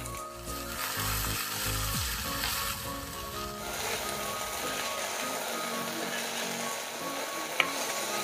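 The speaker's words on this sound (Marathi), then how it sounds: "आपण फिरवून घेऊया भाजी एकदम" Okra (bhindi) stir-frying in a pan over medium heat gives a steady, even sizzle with soft stirring, a low tonal hum at first, and one sharp click near the end.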